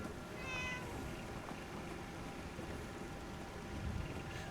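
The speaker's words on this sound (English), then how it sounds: "That meow was so uncanny" A cat named Maisie gives a single short meow early on, faint against a low, steady background rumble like wind or distant engine noise that continues to the end.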